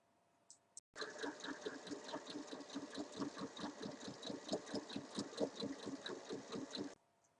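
Sewing machine stitching two one-metre fabric strips right sides together for a summer dress, a fast even mechanical chatter that starts abruptly, runs steadily for about six seconds and then stops, with no talking.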